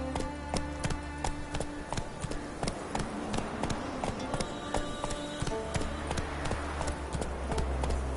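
Galloping hooves of Roach, Geralt's horse in The Witcher, drum a steady, close, rhythmic clip-clop across the whole stretch over a low ambient game score.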